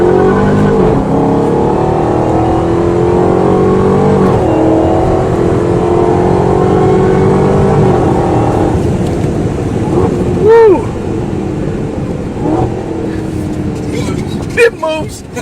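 A Dodge Hellcat engine rumbles and revs steadily as the car is driven around, its tone rising and shifting throughout, with voices talking over the engine noise.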